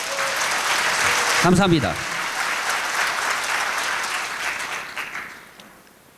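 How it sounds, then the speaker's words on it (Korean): An indoor seminar audience claps together in sustained, dense applause lasting nearly the whole stretch before fading out, with a brief spoken thank-you from the presenter over the clapping. "동의하시는 분만 박수 한번 칠까요?"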